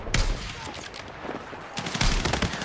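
Sniper rifle shots and impacts from the game Battlefield 6, a few sharp reports over about three seconds with a denser burst of gunfire near the end, mixed with faint background game noise.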